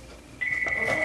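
A phone gives a short, steady electronic tone that starts abruptly and holds at moderate volume in a quiet room.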